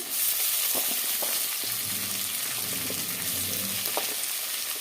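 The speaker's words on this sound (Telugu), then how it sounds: "ఇవి కూడా ఉల్లిపాయలు పచ్చిమిరపకాయలు మంచిగా వేగాలి" Sliced onions and green chillies with curry leaves fry in oil in a pan, giving a steady close sizzle with a few stirring clinks, and nobody speaks.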